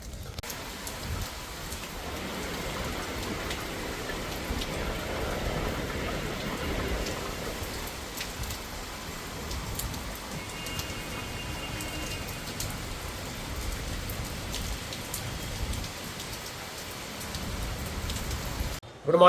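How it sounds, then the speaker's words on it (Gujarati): Heavy rain pouring down during a sudden downpour that flooded streets in Surat, a dense steady hiss of drops hitting surfaces, continuous and fairly close throughout with no talk over it. "ખાલી 15 જ મિનિટ વરસાદ આવ્યો છે"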